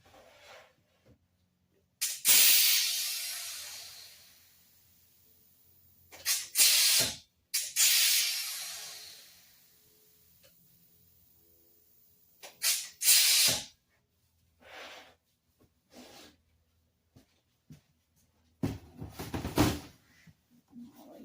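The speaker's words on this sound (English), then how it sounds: "you'll hear a loud noise. That will be my compressor." An air compressor lets out loud bursts of hissing air in several blasts of varying length, with mechanical clicks and knocks between them and no talking.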